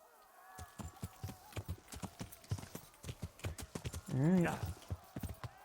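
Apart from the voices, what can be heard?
horse hooves clip-clopping, from a video game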